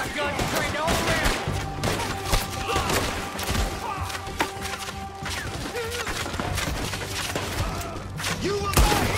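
Rapid gunfire in the Western video game Red Dead Redemption 2, with sharp shots and thuds packed throughout under a dense bed of music and shouting voices.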